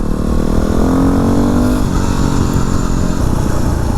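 A Yamaha WR250R dual-sport motorcycle on a forest trail, its engine loud and close with a rough, throbbing drone that rises briefly as it revs and then settles into a steady ride.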